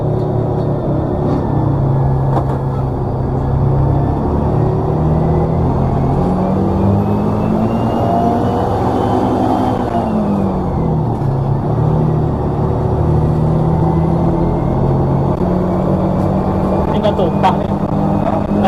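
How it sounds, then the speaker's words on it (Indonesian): A front-mounted bus engine rumbles steadily nearby, its pitch rising and falling as it revs, with a voice talking over the drone. "Wah, ini suara mesinnya mantep nih di depan."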